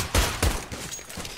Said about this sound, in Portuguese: Olha o Ícaro trocando tiro.